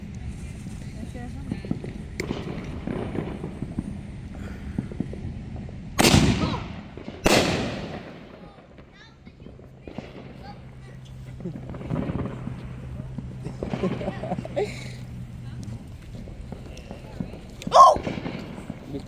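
Backyard July 4th fireworks go off with two sharp, loud bangs close together and a later crack, while people talk nearby and a quiet hum lingers between the blasts.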